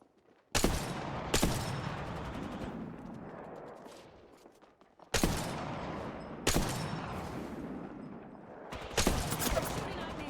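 Bursts of rapid automatic gunfire in a shooter video game, two loud volleys that each trail off into rattling echoes, with further sharp shots later, under occasional talk.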